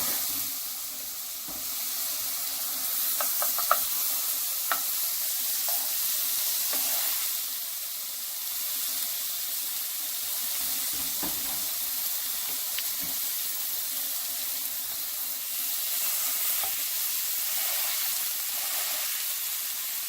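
Stuffed cheeseburger patties sizzling in a skillet over medium heat, a steady hissing crackle throughout with occasional faint pops, close and even, no talking.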